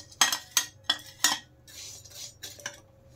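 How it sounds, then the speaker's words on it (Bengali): Pieces of jaggery drop into a wok one after another, several sharp knocks and clatters over a few seconds, close and alone. "আমি কড়াই চাপিয়ে দিয়েছি, এখন কড়াইতে দিয়ে দেব গুড়।"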